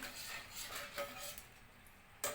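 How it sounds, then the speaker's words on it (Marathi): Salt stirred into drumstick soup, a metal spoon clinking and scraping against a pot in a quick irregular rhythm, close and fairly faint, with no talk. "आता याच्यामध्ये आपण चवीप्रमाणे मीठ घालून घेऊया छान मिक्स करून घ्यायचे"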